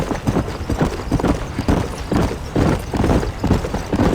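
Rhythmic horse hoofbeats clip-clop at a steady trotting pace in the video game Red Dead Redemption, close and clear, with no voices.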